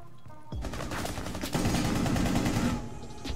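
Rapid automatic gunfire from a firefight in the tactical shooter Rainbow Six Siege, a loud sustained burst of overlapping shots that swells midway and then cuts off.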